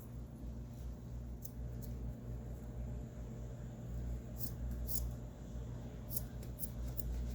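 Scissors cut a paper craft hat for an Easter gnome down the middle, giving a few faint, crisp snips close by over a steady low hum, with no voices.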